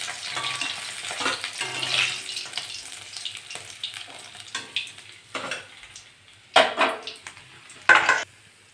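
Tilapia frying in mustard oil sizzles close by while a spatula scrapes and clatters against the pan, giving uneven bursts of stirring noise and two loud hissing flare-ups near the end.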